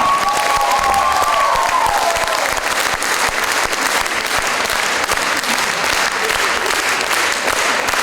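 Concert audience breaks into loud, sustained applause for a singer, a dense wash of clapping with a few cheers and a brief voice near the start.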